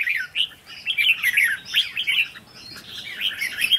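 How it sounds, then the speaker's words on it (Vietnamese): A flock of young red-whiskered bulbuls chirps overhead in quick, bright, overlapping calls that continue without a break and with no voices. "Một đàn chim chào mào non ở trên đầu mình luôn."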